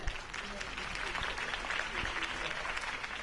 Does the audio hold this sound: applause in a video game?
yes